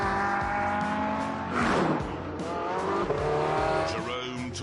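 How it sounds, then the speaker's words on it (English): Racing cars lapping a track with a loud, close engine drone that shifts pitch through gear changes, and bursts of squealing tires in the corners. Someone talks over the engines. "Jerome took the cars out to get a sense of how they handled."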